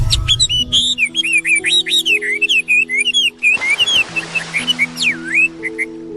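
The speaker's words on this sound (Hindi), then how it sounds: "टूनी चिड़िया, आज इतनी मीठी आवाज में गा रही हो?" A small cartoon bird sings a sweet, varied whistling song of quick bright notes and trills, close and clear over a soft sustained musical background.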